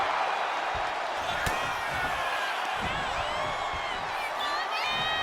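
Wrestling arena crowd in WWE 2K25, a continuous roar of cheering with whistles and whoops rising over it, plus a few sharp thuds. A commentator talks over the noise.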